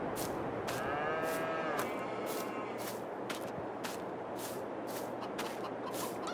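Cattle moo in Farming Simulator 22 on a farm, one drawn-out low call early on over a steady background of rhythmic clicks and ambient farm noise.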